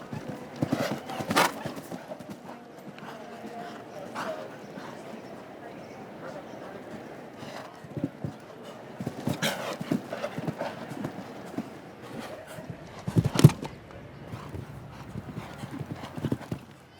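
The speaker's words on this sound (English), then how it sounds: "the 10-year-old stallion gets better every time out, and McRae will certainly be expecting" A 10-year-old stallion clip-clops over a show jumping course at Spruce Meadows, its hoofbeats steady in the middle distance under continuous commentary, with occasional crowd noise.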